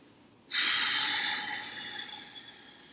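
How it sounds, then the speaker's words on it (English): One long, deep breath drawn close to the microphone during a calm standing yoga practice: a steady airy rush that starts abruptly, holds for a few seconds, then slowly fades, with no talking. "Take a few deep inhales to get grounded, a few long exhales to get grounded."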